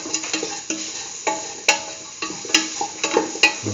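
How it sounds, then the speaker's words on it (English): Salt gets mixed into a curried chickpea beetroot stew with repeated, fairly regular scrapes and taps of a spoon against the pan, set over a constant background sizzle. "Thoroughly mix in the salt."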